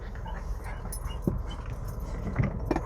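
A dog that has got loose whimpers and yips nearby, with short, uneven bursts over a low background rumble heard from inside a car, along with faint jangling.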